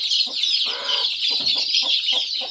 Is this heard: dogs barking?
no